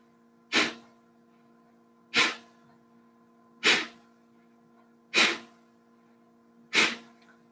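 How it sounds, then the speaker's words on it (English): Five sharp, forceful exhales from a breathing exercise, each a short breathy burst of air through the nose, evenly spaced about one and a half seconds apart over a faint background hum. "So we're going to release all the air very quickly."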